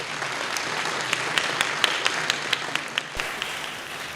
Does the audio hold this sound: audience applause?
yes